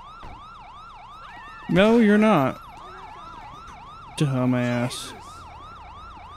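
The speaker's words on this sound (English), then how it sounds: "let's get the siren turned off." A police car siren in the video game GTA 5 wails in a steady repeating yelp cycle throughout, while someone talks over it in two short bursts.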